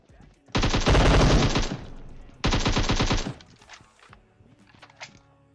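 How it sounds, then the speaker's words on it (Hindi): M762 assault rifle fire in PUBG Mobile comes as two loud, rapid automatic bursts at close range, each roughly a second long, followed by faint thuds and quieter game noise. "और ये M762 की आवाज इतनी तेज क्यों आती है?"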